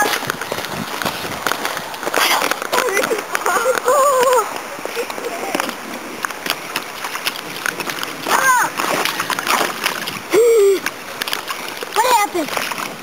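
Boots splash and slosh through rain puddles outdoors in several separate wet bursts between footsteps, fairly close, while people talk and exclaim over the splashing.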